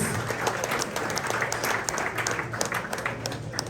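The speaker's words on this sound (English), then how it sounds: "So let's give Brett a round of applause" A steady round of applause from a crowd, dense clapping filling the whole stretch at a fairly loud, even level.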